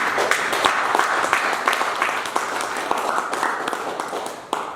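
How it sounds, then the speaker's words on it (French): A church congregation applauds steadily in a dense, continuous clatter of many hands that fades slightly toward the end. "Acclame Jésus, acclame Jésus."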